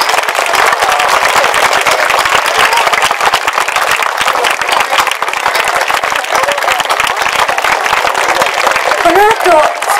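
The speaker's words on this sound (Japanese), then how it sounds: "大きな拍手をお願いします。" Audience at a fashion show event applauding loudly, with dense sustained clapping filling the whole stretch and a voice speaking over it.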